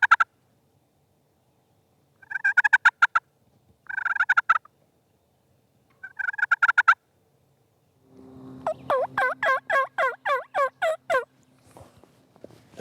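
Wild turkey gobblers gobble outdoors in repeated rattling bursts, a few short calls spaced apart, then a longer loud run of rapid gobbles near the end, with no talking.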